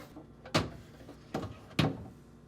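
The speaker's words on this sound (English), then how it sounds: "remove the pan by sliding it all the way out until it stops, then lift up and out to remove" A plastic vegetable pan slides out of a GE refrigerator with three quick, soft knocks and scrapes set apart from each other, fairly quiet and close.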